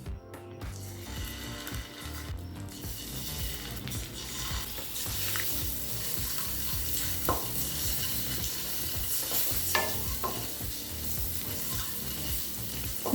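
Boiled eggs frying in a Tamil egg kurma masala in a pan, a steady dense sizzle with occasional scraping and stirring clinks running throughout, close and continuous.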